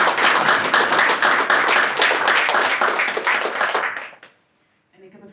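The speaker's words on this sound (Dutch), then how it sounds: "ik kan nog een keer een applaus alsjeblieft voor deze meneer" An audience applauds a lecturer in a lecture hall, brisk, close clapping from many hands that runs steadily for about four seconds, then stops abruptly into silence before a voice begins.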